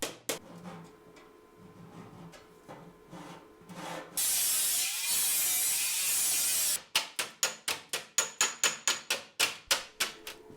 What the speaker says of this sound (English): I can do some hammer work to refine the corners.